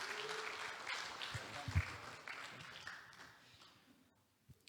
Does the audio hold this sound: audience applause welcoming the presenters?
yes